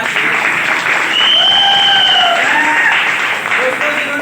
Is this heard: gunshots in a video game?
no